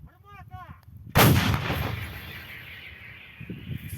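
A single loud artillery boom goes off close by, then rolls into a long rumbling echo that slowly fades.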